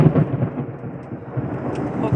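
Thunder rumbling through a storm, a loud continuous low roll that swells and fades over a couple of seconds, with no voices.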